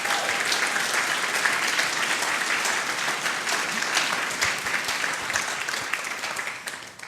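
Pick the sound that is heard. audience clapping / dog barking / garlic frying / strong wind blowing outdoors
audience clapping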